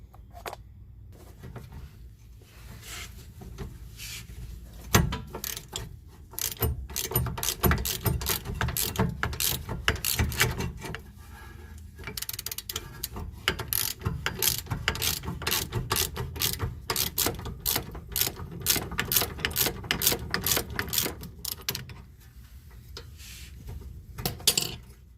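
A ratchet with a 3-inch extension works on a Nissan brake caliper bolt, giving long runs of rapid close clicking with pauses and occasional metallic knocks.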